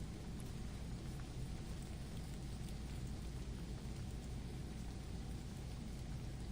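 Steady, even rainfall in a video game setting, a soft continuous wash of drops with a faint low rumble beneath, unbroken and without voices throughout.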